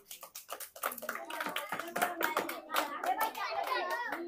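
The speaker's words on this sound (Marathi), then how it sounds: "चला मग होऊ द्या टाळ्या." Children clapping during an outdoor game of musical chairs, scattered quick hand claps that grow busier, mixed with children's chatter and an adult voice nearby.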